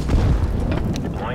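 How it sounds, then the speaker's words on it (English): Grenade explosion in the video game CS:GO, a loud low boom over a busy game mix with a voice calling out radio commands alongside it. "Throwing a grenade."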